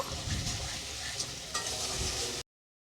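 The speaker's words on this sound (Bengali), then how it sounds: "খুব ভালো করে কষিয়ে নেব" Koi fish frying in oil with green chilli, turmeric, salt and chilli powder in a pan, a steady dense sizzle with stirring scrapes throughout, loud and close, no voices.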